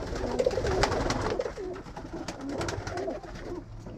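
Several homing pigeons in an aviary coo in soft, rolling murmurs that overlap steadily throughout, fairly close, with no one speaking.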